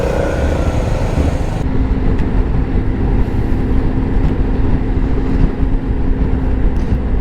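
Honda X-ADV 750 motorcycle pulling away, a loud close engine drone with low rumble and wind buffeting, steady after an initial rougher start.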